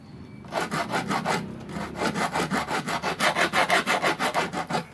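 Dried stingray skin rasped back and forth across wood as a file, a steady run of about two dozen rhythmic scraping strokes that grow slightly louder and faster, with no talking.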